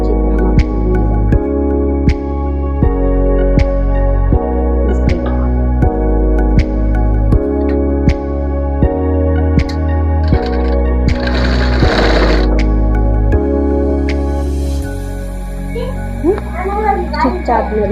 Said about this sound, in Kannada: ಲೈನಿಂಗ್ ಹಾಕೊಂಡು ಸ್ಟಿಚ್